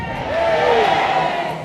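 A pageant audience at a fa'afafine beauty contest in Auckland cheers and whoops in a short, loud swell of crowd noise that rises and then tapers off.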